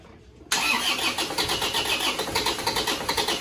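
An Isuzu Panther diesel engine is cranked by its starter after a short quiet moment, then churns loudly in a rapid, pulsing rhythm close by, with no talk.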